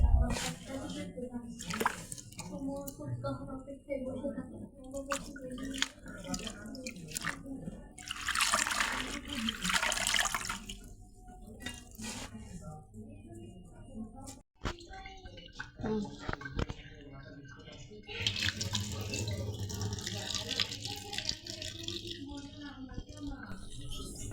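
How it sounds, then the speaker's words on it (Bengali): Water runs and splashes steadily as red amaranth leaves are washed by hand under a tap, with irregular trickles and handling noises throughout. "শাকগুলো বাইচ্ছা আমি এখন ধুয়ে নিচ্ছি"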